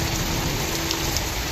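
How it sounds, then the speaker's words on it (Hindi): Heavy rain pouring steadily in a dense, continuous hiss, loud and close with scattered drops striking surfaces, and no talking. "इतनी तेज़ बारिश आ रही है।"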